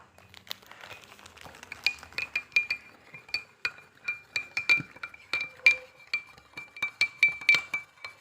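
A spoon clinks repeatedly against a glass of water as salt is stirred in for an egg buoyancy experiment, a fast series of bright, close taps that grows denser and louder toward the end, with no talking.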